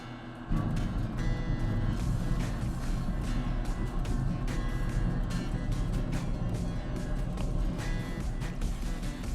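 A big gas-assisted rotisserie smoker heating up after cleaning gives a loud, steady roar that barely changes from start to finish, with no voices over it.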